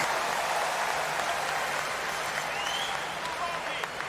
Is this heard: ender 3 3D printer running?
no